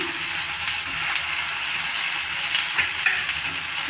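Ginger, cumin, onion and garlic paste with green chili stirred in hot oil gives a close, continuous sizzle with repeated soft spatula scrapes and taps against the pan, no voices.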